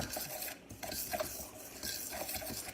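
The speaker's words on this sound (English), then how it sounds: "And then you just stir that up" A homemade dishwashing pod mixture with essential oils is stirred in a bowl, giving faint, uneven scraping and swishing with light clinks of a utoensil.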